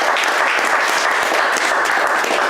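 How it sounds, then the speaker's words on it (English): Dense, loud round of applause from a group cheering a film crew at a finale, a steady roar of clapping hands close by with no talking. "Let's please give a big round of applause to our film crew."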